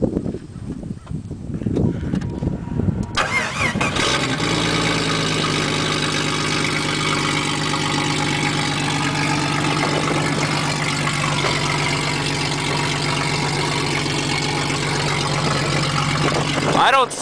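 A Jeep engine cranks after a transmission repair, catches and settles into a steady, rumbling idle that carries on close by to the end.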